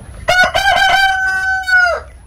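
A rooster crows loudly and close on a small chicken farm keeping Brahma, native and silkie breeds, a single long crow with a choppy start and a drawn-out held note that fades off, with no talking over it.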